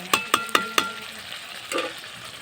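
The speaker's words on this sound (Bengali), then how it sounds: "কষাচ্ছি আপনাকে মাংসটা এখন" Chicken meat being sautéed in a pan, with four sharp scraping stirs in quick succession followed by a softer stir, over a faint sizzle close by.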